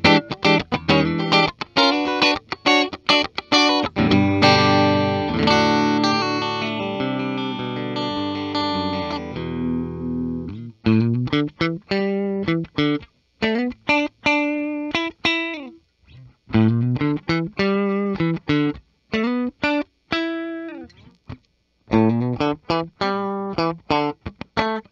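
A 1988 Gibson Les Paul Junior DC Pro Stein electric guitar with both pickups mixed plays distorted chords and single notes through effects, loud and close, in bursts with short pauses.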